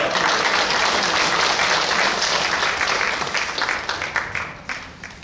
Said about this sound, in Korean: 우리 청년들에게 다시 한번 박수 보내드릴게요